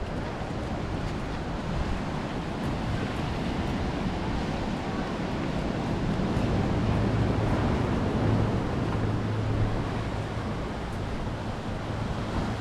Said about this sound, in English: The water is so much more rough than I was expecting.